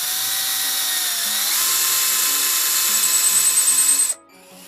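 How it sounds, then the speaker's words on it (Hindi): A power drill bores a hole through a guitar fretboard with a steady, loud, high whine that rises slightly in pitch and roughens toward the end, then cuts off abruptly. "तो ये ड्रिल भी हो गया।"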